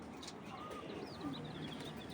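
Racing pigeons coo softly, a low, faint cooing with a few chirps over quiet room noise.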